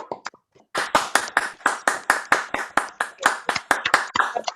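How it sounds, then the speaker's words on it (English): One person claps alone, close to the microphone, in a steady, even rhythm of about a dozen sharp claps, applauding a poet at an online poetry reading. "Please, everybody, unmute and give an amazing applause for Carlos the Unhappy."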